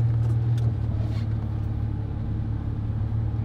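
A Jeep, likely a Cherokee, drives along with a steady low engine rumble and road noise inside the cabin, loud and continuous with no talk over it.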